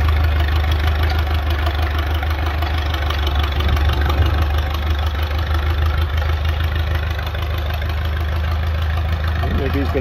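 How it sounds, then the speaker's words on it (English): A heavy Allis Chalmers 6-12 tractor engine runs steadily close by, a deep low chugging idle that continues unbroken, with faint voices now and then. "We'll hook up to the tractor here though and start pulling it around a little bit more"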